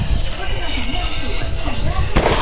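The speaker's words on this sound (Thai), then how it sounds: "ได้ควักลูกโม่มาแล้วก็ยิง" Revolver gunshots in a zombie video game: a sharp, loud bang near the end cuts through a dense, noisy mix of game sound with a voice talking over it.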